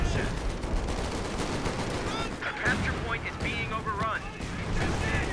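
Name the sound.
light artillery barrage in Company of Heroes 2 video game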